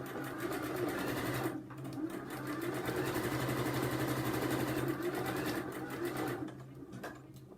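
A sewing machine stitches fabric bunting in rapid, even bursts, pausing briefly before starting up again for a short back stitch, the close mechanical whir steady and fairly loud.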